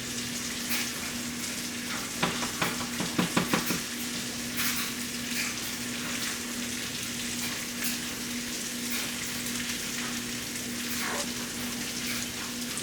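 Steady, crackling sizzle of butter in a hot pot, with a few louder pops and spatters early on, continuing evenly without talk.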